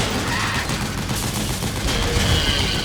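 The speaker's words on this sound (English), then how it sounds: "just an APC with a fucking machine gun with an old man shooting it on top" Sustained machine gun fire from an APC in Metal Gear Solid 4, a dense, continuous rattling fusillade of rapid shots with booming low end, loud and unbroken for the whole stretch, no talk.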